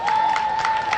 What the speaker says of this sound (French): vous devez applaudir pour vous-même tout de suite